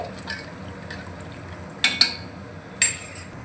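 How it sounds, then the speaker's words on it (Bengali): A spoon stirring water and a little white cooking oil in a cooking pot for aloo biryani: a soft swishing bed broken by three crisp metallic clinks against the pot, close by. "এই সাদা তেলটা দিয়ে দিলাম একটু নাড়িয়ে চালিয়ে নিচ্ছি"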